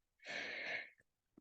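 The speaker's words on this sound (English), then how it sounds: "Sneezing, yawning, what's going on?" A single short, breathy sneeze, close and fairly quiet, followed by a couple of faint small sounds.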